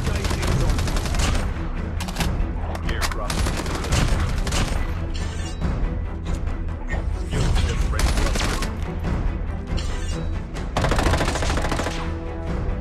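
A powerful weapon in Call of Duty Mobile fires rapid, loud shots almost without pause, with dense bursts and booming reports packed close together.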